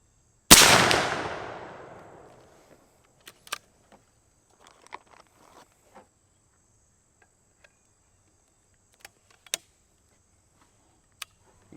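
A single sharp, loud report from a stock AirForce Texan .50 PCP airgun, decaying quickly, followed by quiet with a few faint clicks and ticks.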